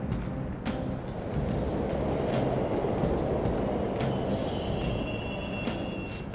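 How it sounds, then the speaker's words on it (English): Subway trains running in the game Persona 5 Royal give a steady low rumble that fills the whole stretch, with faint rhythmic clicks and a thin high whine rising near the end. "The trains are totally running!"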